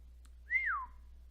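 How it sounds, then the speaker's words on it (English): A single rising-then-falling whistle, clear and close, lasting under half a second against near silence. "Whistle noise. What's that?"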